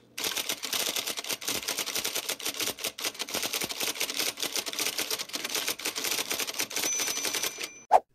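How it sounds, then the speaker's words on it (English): IBM Selectric electric typewriter types in rapid, steady bursts of crisp mechanical clacks, close and fairly loud, ending with a short ring-like tone. "I just want to play the sound of that very typewriter working away"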